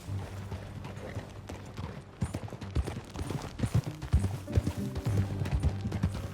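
Horse hooves clip-clopping in Red Dead Redemption 2, a steady rhythmic trot on hard ground that grows louder and closer midway, with soft ambient background beneath.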